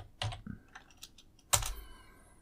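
A few quiet, scattered keystrokes on a computer keyboard while a tag name is entered, ending in one sharper key press.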